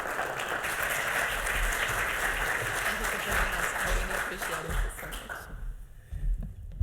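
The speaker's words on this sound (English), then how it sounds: "Let's give her a warm round of applause." An audience at the opening session of a Nobel symposium in physiology or medicine applauds in a steady, dense round of clapping. The applause thins out and fades near the end.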